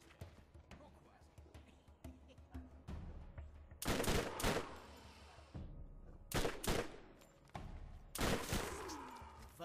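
Bursts of gunfire in the shooter game Borderlands, with several sharp loud volleys and single shots separated by quieter stretches, over a low background and faint game sounds.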